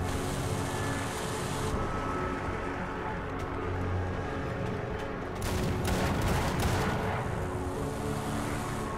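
Anti-aircraft vehicle gun in War Thunder tank battles firing in sustained rapid bursts over a steady engine rumble, dense and loud throughout with a heavier stretch of fire midway.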